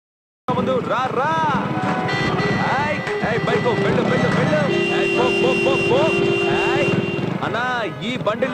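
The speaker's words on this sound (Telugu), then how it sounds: "కొంచెం నీ హార్న్ ఆపు." Traffic jam street noise with a steady engine drone, overlapping vehicle horn blasts and a long sustained honk, under people talking and shouting.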